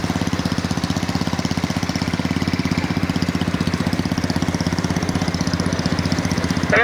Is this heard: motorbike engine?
yes